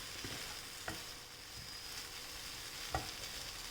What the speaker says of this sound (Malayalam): ഇനിയിപ്പോൾ നമുക്കിത് ചെറിയ സിമ്മിലിട്ടിട്ട് നമുക്കിതൊന്ന് വേവിച്ചെടുക്കാം